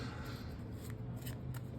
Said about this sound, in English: I'm going to shuffle the cards and just take out 5 random cards.